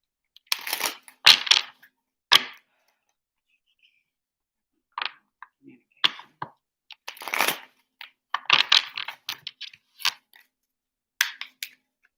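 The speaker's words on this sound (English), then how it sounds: "Shuffle two more times." A deck of tarot cards is shuffled by hand in several separate bursts, crisp riffling and slapping sounds close up, broken by short silences.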